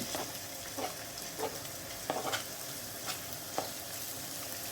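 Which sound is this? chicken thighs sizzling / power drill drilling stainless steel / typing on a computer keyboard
chicken thighs sizzling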